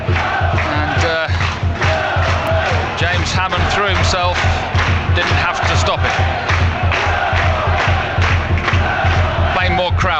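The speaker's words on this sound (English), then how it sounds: "Plainmoor crowd doing their absolute best to lift Paul Watton's team" Football crowd at Plainmoor stadium, Torquay United against Chesham United, roars and chants loudly and steadily throughout, with rhythmic clapping, under continuous radio commentary.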